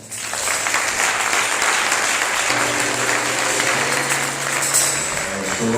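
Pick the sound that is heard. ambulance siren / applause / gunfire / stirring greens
applause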